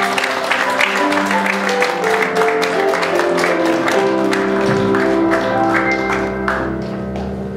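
A congregation applauds at a Korean Presbyterian ordination service, steady dense clapping through a reverberant hall, heard together with sustained tonal music that carries throughout and eases slightly toward the end.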